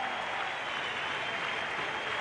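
A cricket crowd at the 1992 World Cup match between Pakistan and South Africa breaks into sustained, dense applause and cheering, a broad continuous roar with no clear breaks.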